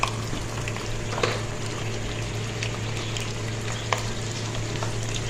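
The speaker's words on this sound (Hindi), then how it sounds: "एक एक पीस को पकड़ेंगे और एहतियात से हमने ऑयल में डाल दें।" Chicken pieces frying in hot oil, an even close sizzle with bubbling crackle holding steady throughout, with a low constant hum underneath and a few sharper pops.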